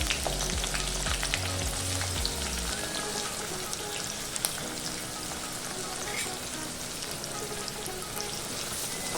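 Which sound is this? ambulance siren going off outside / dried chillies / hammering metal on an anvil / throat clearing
dried chillies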